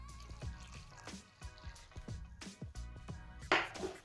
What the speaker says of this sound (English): And then we add 1 cup of water.